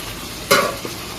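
Mutton curry masala frying in a pan with yoghurt, a sudden loud sizzle as it hits the hot pan, then a short stir, close and alone.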